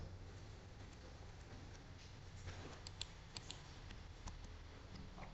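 Soft, sparse key clicks from a computer keyboard as C++ code is typed, faint and irregular over a quiet background hiss with no voices.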